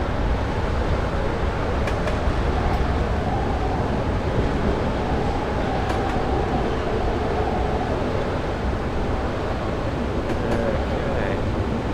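A steam train rolls along the down line of the Woodhead Line in a railway simulator game, giving a steady, loud rumble of wheels and engine that carries through the whole stretch with faint clanks on top.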